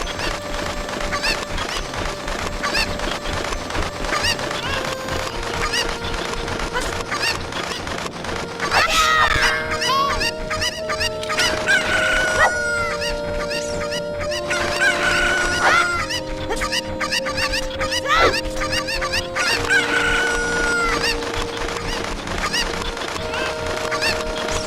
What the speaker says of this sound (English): if we collect all the chickens for this lady